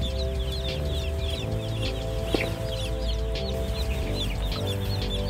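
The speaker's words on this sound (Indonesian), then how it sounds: "DOC adalah singkatan dari day old chicken, yaitu bibit ayam broiler yang akan kita pelihara." Dense chirping and clucking of day-old broiler chicks fills a poultry house, a continuous close chorus over a steady low hum of equipment.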